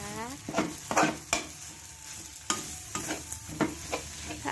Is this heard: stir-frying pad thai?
yes